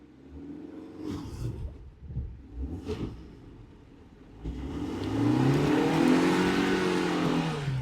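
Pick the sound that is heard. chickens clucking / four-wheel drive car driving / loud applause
four-wheel drive car driving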